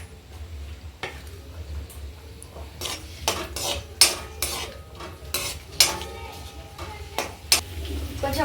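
Onions fry in about two tablespoons of oil in a pan while a utensil stirs them, giving soft scraping and clinking with sharper metallic taps every second or so over a low, steady background.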